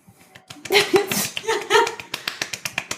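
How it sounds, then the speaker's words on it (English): A short burst of applause from a sound effect track under a few voices and laughter, thinning into a handful of sharp, spaced claps at the end. "Chauncey, put an applause track in there for us."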